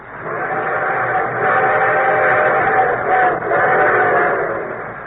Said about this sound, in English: And here comes our summer show train.